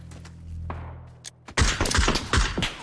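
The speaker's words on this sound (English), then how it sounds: "Getting shot from behind." Gunfire from behind in PUBG, a quiet lull with a fading whine that breaks into a loud, close burst of rapid overlapping shots and thuds.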